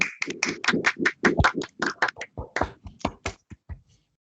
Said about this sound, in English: Let's have a round of applause for our speaker.